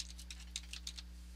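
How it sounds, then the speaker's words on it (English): Soft, quiet keystrokes on a computer keyboard as code is typed, a short run of separate clicks with a steady low hum beneath. "I'm just going to type it"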